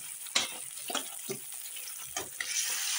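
Pieces of rohu fish fry in a pan, a constant close sizzle broken by several scrapes and knocks of a spatula as the pieces are added and turned.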